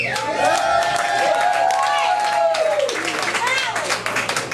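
Crowd at a comedy show applauding and cheering for a comedian, loud sustained clapping with whoops that fills the room, while a voice talks over it.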